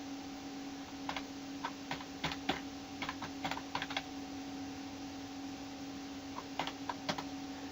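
Typing on a computer keyboard while entering code in Visual Basic for a simple web browser: scattered bursts of quick light key clicks in short clusters with pauses between, close and fairly quiet over a steady electrical hum.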